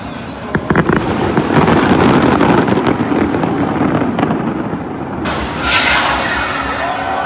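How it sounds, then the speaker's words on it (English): New Year's fireworks burst over Melbourne in a loud, dense barrage of crackling pops and booms, with a bright hissing crackle rising near the end. "a lot of these fireworks are actually called stars"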